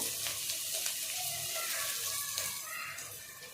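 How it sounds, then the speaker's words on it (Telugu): Chopped onions, green chillies and curry leaves frying in hot oil for a manchurian dish, a steady close sizzle and crackle with a brief stirring clatter, no talking. "సన్న కట్ చేసి పెట్టేసుకున్న ఉల్లిగడ్డలు వేసేసుకుందాం ఇందులోకి పచ్చిమిరపకాయలు కలేమాకు"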